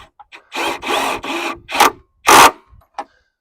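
A quarter drive impact driver tightens the stabilizers on a camper trailer in close, rasping bursts, several buzzes of about a second each separated by short pauses.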